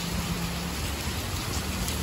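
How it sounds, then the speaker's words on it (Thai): Heavy rain pours steadily onto Soi 10 of Narathiwat Ratchanakarin Road in Bangkok, a dense, even hiss filling the whole moment with no voices. "เบิ่งบรรยากาศฝนตกด้วยค่ะ"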